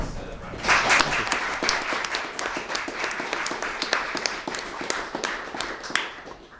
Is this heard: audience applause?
yes